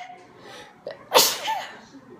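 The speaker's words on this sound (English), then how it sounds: "I have to sneeze." A single sharp, close sneeze from a person bursts out after a brief inhale, with faint room sound around it.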